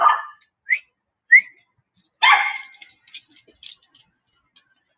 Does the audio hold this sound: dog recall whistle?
yes